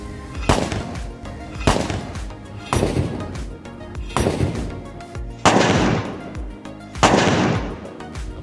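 Six loud, sharp reports from homemade sulfur-potash guns, going off one after another at roughly one-second intervals, close and punchy, each trailing into a brief ringing echo.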